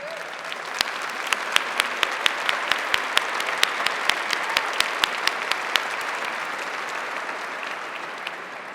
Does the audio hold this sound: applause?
yes